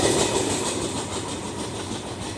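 A CSX freight train rolls past on the tracks, a loud, close, steady rumble with faint rhythmic clatter of wheels over rail joints and no talking.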